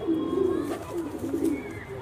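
A newly acquired pigeon on a rooftop coos softly in low, rolling bursts, close and clear, with no voices over it.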